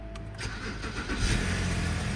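An abandoned BMW E60 left standing outdoors cranks and starts, the engine catching quickly and rising into a loud, close, steady idle, with no talk.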